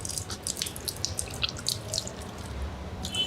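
Tap water running into a sink while the nose is rinsed during wudu, with a soft continuous flow, splashes and drips close by.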